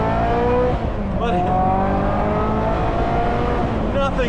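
A Ferrari 355 engine runs loudly and steadily, its rising and falling tones carrying throughout, with tire and passing-car noise mixed in.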